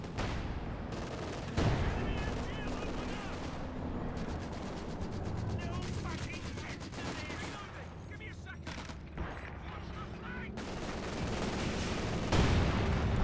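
Dense rapid gunfire and bursts of shots from a Company of Heroes 2 battle, with Panzer Grenadiers, trenches and mortars, crackling continuously across the whole stretch with heavier booms near the end.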